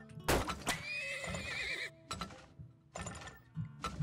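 A horse in the video game Turmoil lets out a loud, close whinny with a wavering, descending tone, followed by a few clip-clop hoofbeats and short mechanical clunks.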